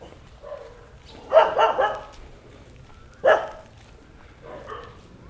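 Dogs at an animal shelter barking in a few short clustered bursts, with a quieter far bark near the end and quiet gaps between.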